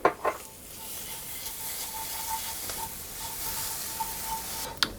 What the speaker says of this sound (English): I'm going to add in my garlic, and I'm just going to cook that briefly